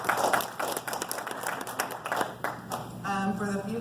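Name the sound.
audience applauding a water board candidate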